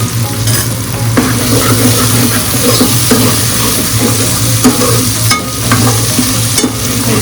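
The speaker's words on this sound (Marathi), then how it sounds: "आपण जे मिरचीचं वाटप बनवलेलं आहे ते आपण तेलावर आता चांगलं परतवून घ्यायचं" Red chili paste sautés in hot oil for a Malvani prawn curry, loud and close with a continuous sizzle and bubbling and occasional stirring scrapes, and no voices.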